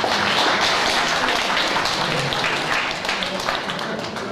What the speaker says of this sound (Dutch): Ik vraag een applaus voor Martin Sterman